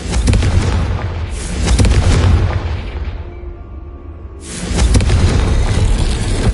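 Booming fiery blasts from the Confringo spell in the video game Hogwarts Legacy, two loud, sustained rushes of explosive roar separated by a quieter lull.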